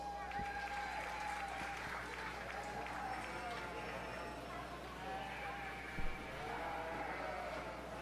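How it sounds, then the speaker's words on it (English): Steady crowd applause fills a 4-H fair sheep show ring, a constant wash of clapping with chatter and a few distant voices mixed in, plus one brief louder knock near the end. "Let's give him a round of applause."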